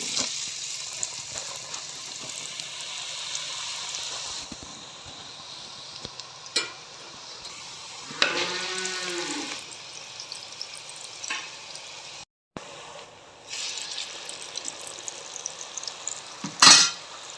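Murukku dough pressed into hot oil, a soft continuous frying sizzle with water-like bubbling and occasional clinks of utensils, close and moderate in level, with a brief gap of near silence partway through.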